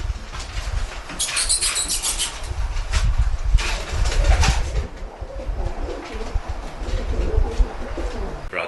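Young pigeons in a small backyard aviary coo repeatedly, with soft low calls and light wing flutters close by over steady outdoor background noise, and no talking.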